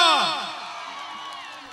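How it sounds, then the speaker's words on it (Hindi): Crowd at a Bhojpuri tilak ceremony cheering and whooping as a burst of applause begins, loud at the start and easing into a steady roar, with voices mixed in. "एक बार जोरदार तालियां"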